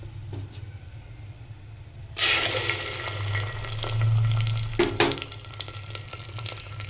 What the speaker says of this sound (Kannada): ಒಂದು 2 ನಿಮಿಷ ಇದನ್ನು ಫ್ರೈ ಮಾಡಿ